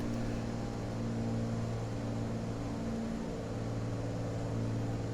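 Airliner engines at idle during descent toward a mountainous French airport in a flight simulator game, a steady, even drone with a low hum and no change.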